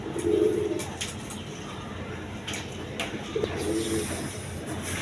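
A pair of big Gopalganj pigeons at a pigeon farm give two soft, low cooing phrases a few seconds apart, fairly faint over quiet background noise.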